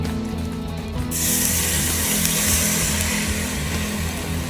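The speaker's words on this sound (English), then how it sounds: "This is what you're gonna use to deglaze your pan." Marsala is poured into a hot pan after searing a pot roast, erupting into a loud, hissing sizzle after a second that holds steady and close to the end.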